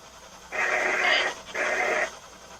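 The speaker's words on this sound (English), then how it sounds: "It's a dog." Dog panting in two breathy bursts, each about half a second of rough airy huffing, separated by a brief gap, close and fairly loud.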